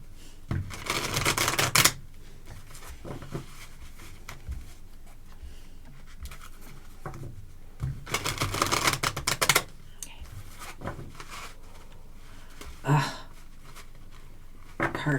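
Tarot cards are shuffled by hand in several brisk bursts of riffling and flicking, close and fairly soft, separated by quieter pauses and light handling taps.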